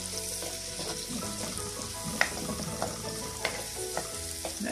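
Chopped onions sizzle in a hot pan alongside sausage for a simple Egyptian sausage dish, a close, steady frying crackle broken by a few sharp stirring clicks and pops.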